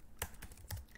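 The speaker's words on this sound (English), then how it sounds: "then you can type in" A few quick keystrokes on a computer keyboard while a file name is entered in the VS Code editor, three distinct clicks spaced irregularly over a second, close and fairly quiet with no talk.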